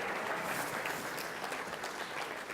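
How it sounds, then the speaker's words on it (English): A gala dinner crowd gives a big round of applause, steady dense clapping heard at moderate distance and fairly quiet, without a break. "massive round of applause"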